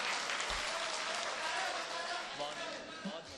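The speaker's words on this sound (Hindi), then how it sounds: "शेर सच्चा था तो आप जोरदार तालियां बजा के इस्तकबाल करें भाई" Applause from the audience at a 2019 mushaira in Chandur Bazar, Amravati: a soft, distant wash of many hands clapping at a steady level, with voices faintly mixed in.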